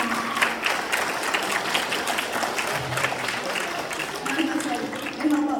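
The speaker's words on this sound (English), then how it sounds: "let's give a round of applause to these folks as well" Audience applause from people who have stood up at a hackathon keynote, a steady broadband clatter of clapping holding for several seconds with a low voice or murmur mixed in.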